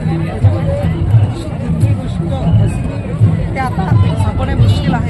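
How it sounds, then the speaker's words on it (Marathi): A large crowd mills about at a tribal cultural unity gathering, a dense, continuous hubbub of many overlapping voices, with nearer talkers rising briefly above the babble. "आता बरीच गर्दी आहे"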